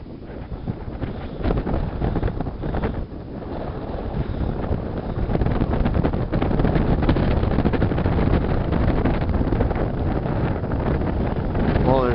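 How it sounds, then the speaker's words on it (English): Strong wind roars steadily across the microphone outdoors for the whole stretch, a dense, loud rush with a few gusty surges. "there's certainly a difference with the wind, isn't there? You can tell with the sound"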